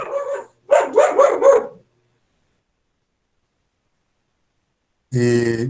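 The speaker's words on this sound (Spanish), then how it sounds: "Ahí está mi perra que es una loca furiosa." A female dog barks in a short burst of several sharp, loud, close barks, followed by a long silence and then a sustained whining yelp at the end.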